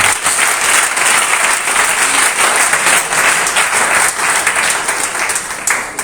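A church congregation bursts into loud, sustained applause, a dense wash of many hands clapping together that continues evenly throughout.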